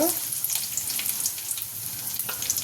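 Mustard seeds, cumin and curry leaves sizzle and crackle in hot oil in a pan, a dense close hiss with sharp little pops throughout.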